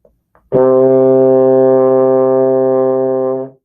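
A baritone horn plays one long, steady, low C that holds for about three seconds before cutting off cleanly.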